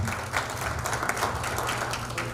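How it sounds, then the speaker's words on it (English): Audience applause at a community gathering, a steady patter of many hands clapping at a moderate distance for a couple of seconds. "You can clap."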